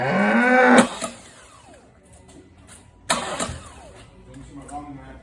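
A used car's engine is cranked in two loud, harsh bursts about two seconds apart, each fading into a quieter rumble, with a voice heard briefly just before the first.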